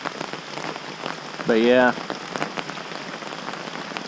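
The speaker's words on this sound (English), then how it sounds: "Rain has not quite stopped" Rain falling at a lakeside campsite during an overnight kayak trip, a steady dense patter on surfaces throughout, with a brief spoken phrase near the middle.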